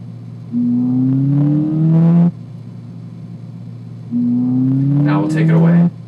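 A Ford Fiesta ST with its Sound Symposer active pulls hard at wide open throttle from a steady 3,500 RPM cruise, giving two loud rising engine sweeps separated by a quieter steady drone.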